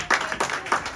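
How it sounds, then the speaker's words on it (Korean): A small audience at a church team presentation claps in a short burst of brisk, close applause lasting about a second. "박수 감사합니다"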